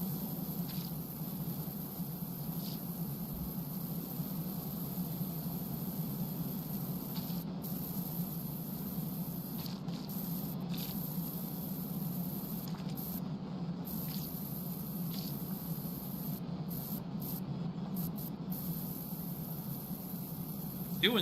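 A pressure washer with an adaptable nozzle sprays steadily in Powerwash Simulator 2, a constant hissing rush of water that holds level throughout with a low hum beneath it.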